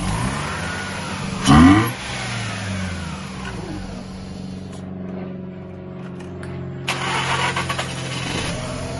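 A 2005 Mazda RX-8 rotary engine, which had been cranking without starting, fires after a brief loud crank. It settles into a steady, close idle, then gives a few light revs near the end.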